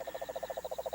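A cane toad, the giant toad, calls in a rapid, even trill of about a dozen pulses per second, steady and fairly faint, heard alone.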